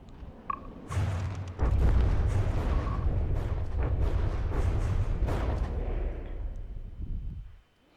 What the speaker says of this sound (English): Torpedoes inbound.